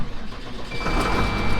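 Tractor engine cranking and firing up on a farm, a brief starter whir followed by the engine catching and settling into a steady running rumble.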